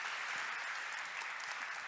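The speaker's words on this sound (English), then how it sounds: "a huge warm round of applause" Warm applause from a seated conference audience, a continuous dense patter of many hands held at an even level for a couple of seconds.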